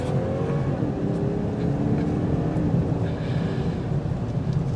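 A 2022 BMW 740i M-Sport accelerates on the road, heard from inside as a continuous, fairly loud engine rumble with a rising tone under steady road and wind noise.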